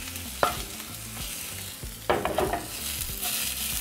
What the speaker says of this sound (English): now we're going to fry the tomatoes